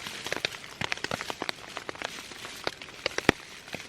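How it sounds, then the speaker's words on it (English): Rain at a solo wilderness camp in the woods, scattered drops tapping irregularly on a nearby surface, close and fairly crisp, with no voices. "but it's still raining."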